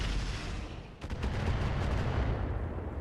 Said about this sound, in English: Those gotta be FTL missiles